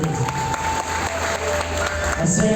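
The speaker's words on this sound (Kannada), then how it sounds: "ಹೊಡ್ರಿ ಚಪ್ಪಾಳೆ" Audience clapping at a felicitation ceremony honouring a Hase Chittara folk artist, a steady burst of applause from a gathered crowd throughout, with voices mixed in.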